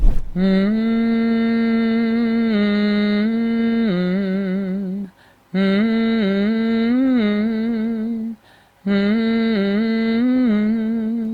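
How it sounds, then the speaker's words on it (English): A voice hums the melody of Rainy Days and Mondays by the Carpenters in three long phrases separated by brief pauses, steady and close. "hum the melody in the same manner as before"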